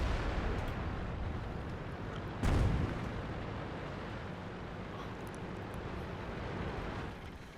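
In World of Tanks, one heavy tank cannon shot booms out once midway, short and forceful, over a constant low rumble of engine and battlefield noise. The game is fairly quiet and nobody talks.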